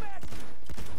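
Several sharp gunshot bursts in quick succession, loud and close, from an automatic 12-gauge shotgun in the video game Battlefield 1.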